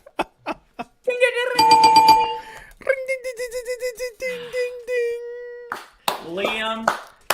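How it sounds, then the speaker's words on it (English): During an NFL football trivia game, a bell rings out in bright, sustained tones to mark a correct answer. Excited voices, clapping and laughter surround it. "Give him the bell, Kyle. Give him the bell."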